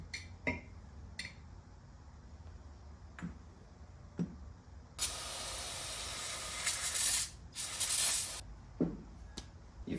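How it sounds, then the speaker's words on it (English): Cleaner is sprayed onto a Panhead ratchet-top transmission main shaft from a 1951 chopper in a workshop, heard as two close bursts of hissing spray, the second one longer and broken up, set between scattered small clicks and taps from the parts. "I'm going to spray this bitch out, clean it as best I can"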